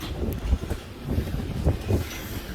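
Wind gusting across the open deck of a WWII cargo ship moored in San Francisco, a rough, buffeting rumble that swells and dips in uneven waves without any talk.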